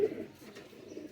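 Pigeons coo softly in a brief low murmur, a faint call close by and under quiet background noise.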